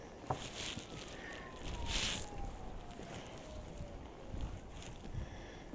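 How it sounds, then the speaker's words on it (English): Wind gusts buffet the microphone on the Coney Island boardwalk in New York City, a steady rushing roar with stronger swells, heard alone without talk. "It's a little windy up here on the boardwalk today."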